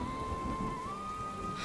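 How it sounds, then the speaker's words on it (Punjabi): Rain in a Punjabi radio play falls as a brief, soft, steady hiss and patter, fairly faint and continuous, with no voices. "ਮੀਂਹ ਵੀ ਰੁਕ ਗਿਆ।"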